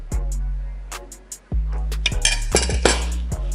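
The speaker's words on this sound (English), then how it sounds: "You just want to spoon that on." Metal spoon clinks against a pan and plate while Grace coconut curry sauce is spooned over pan-seared snapper, a series of sharp close knocks and scrapes that grow busier toward the end.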